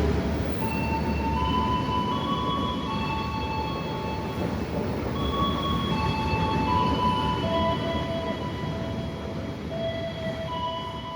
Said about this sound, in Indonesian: melintas langsung kereta api Gajah Wong